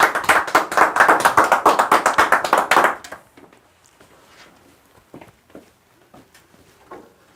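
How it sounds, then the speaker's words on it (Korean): A lecture audience gives a short round of applause to welcome the speaker, a dense burst of clapping for about three seconds, then it fades into scattered taps and room noise. "박수로 환영해 주십시오"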